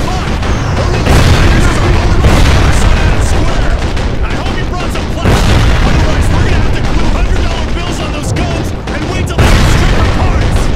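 Anti-aircraft guns pound in the war video game Sniper Ghost Warrior 2, a loud, dense barrage of booms and rapid gunfire rolling almost without a break, with a brief dip before it surges again.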